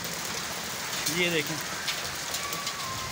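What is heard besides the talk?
rain with hail falling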